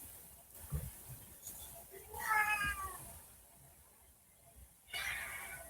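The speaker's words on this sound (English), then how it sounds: "I hear a cat?" A house cat meows several times at a door, wanting to be fed, with a drawn-out meow in the middle and another at the end, quiet and fairly close, with brief speech nearby.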